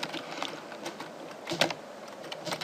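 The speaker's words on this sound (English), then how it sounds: "I'm typing with English characters, but I'm typing Hebrew." Keys clatter on a computer keyboard in quick, irregular taps at close range, a busy run of light clicks with a few louder strikes.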